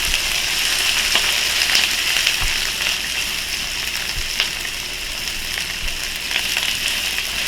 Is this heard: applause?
no